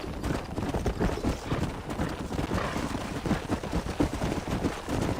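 Horse hooves clip-clopping in the Western video game Red Dead Redemption, a steady run of hoofbeats over game sound, with faint gunfire in the distance.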